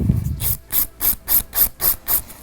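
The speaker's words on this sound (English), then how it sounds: "So I'm going to shape over this whole nail." A file rasps rhythmically across a gel nail coated in clear gel as the nail is shaped. About seven quick, even strokes sound close and crisp, with no talking.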